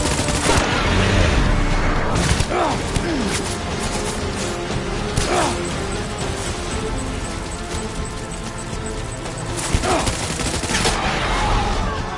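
Rapid, overlapping gunfire rattles through a firefight in the video game Death Stranding, loud bursts of automatic shots layered over a dense, noisy battle backdrop for the whole stretch.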